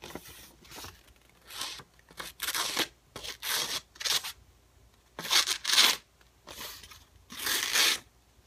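A knife freshly honed on a leather strop shaves thin curly cuts. Close, dry rasping strokes come in short irregular bursts separated by brief pauses, with no talking.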